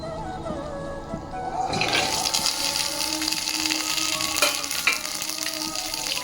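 Green chillies, onion, mint and ginger-garlic hit hot oil and burst into a loud, steady sizzle that continues to the end, close by with light stirring.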